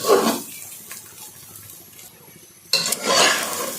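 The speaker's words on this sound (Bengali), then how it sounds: "বেশ অনেকটা সময় চুলার আঁচ কিন্তু কমিয়ে দিয়ে আমি একটু চালটা ভেজে নিচ্ছি" Rice grains frying in a pot on low heat for pulao, scraped and stirred with a utensil in bursts: a scrape at the start, a quieter sizzling stretch, then a loud clattering stir near the end.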